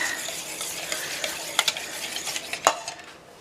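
A spoon stirs whole milk into Yorkshire pudding batter in a bowl, quiet liquid swishing with a couple of sharp clinks against the bowl, near and fairly faint, no talk.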